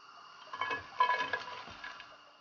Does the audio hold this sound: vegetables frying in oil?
yes